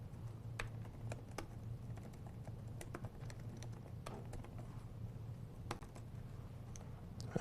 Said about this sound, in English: just typing out the same thing as before